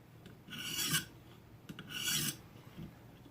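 A karambit knife blade stroked against a coarse sharpening stone to remove the burr, two slow raspy strokes, close and quiet, with no voices.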